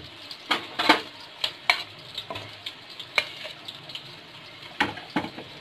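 Garlic ginger paste sizzles in hot oil for a chicken jalfrezi, with a steady frying hiss broken by sharp scraping and stirring clatters at irregular intervals, close and fairly loud.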